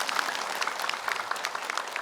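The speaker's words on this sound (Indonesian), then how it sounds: "Cakep tepuk tangan." Applause from the audience at an Islamic sermon program, steady, fairly faint clapping that carries on evenly through the short stretch.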